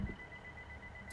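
A steady, fairly faint electronic warning tone sounds from a train's doors in the Train Sim World 2 West Cornwall local route, held evenly for a moment over low background rumble.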